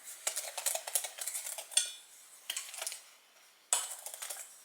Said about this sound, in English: You want to mix your pectin in really well.